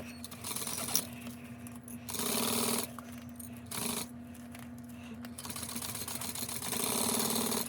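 A sewing machine stitches binding at a 4.5 stitch length with a quarter-inch seam, running in bursts with steady mechanical whirring and brief pauses between runs.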